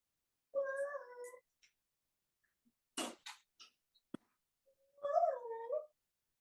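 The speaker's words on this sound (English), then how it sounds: "Love kitten." A kitten meows twice, each cry drawn out and clear at close range, separated by a gap holding a few faint clicks and rustles.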